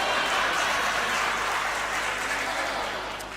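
Enthusiastic audience applause at a Hindi comedy poetry show, a dense continuous clapping from a large crowd that gradually tapers off near the end.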